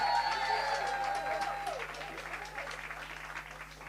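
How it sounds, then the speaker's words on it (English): An audience at a sales workshop and expo in Gugulethu applauds a finalist, a steady spread of clapping from a modest crowd that gradually fades, with a brief tone sounding at the start. "Let's give her a round of applause."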